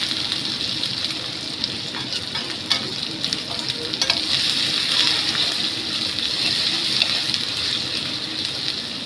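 Spiced onions frying in a pan and being stirred, a continuous bright sizzle with faint scraping that stays steady and close throughout.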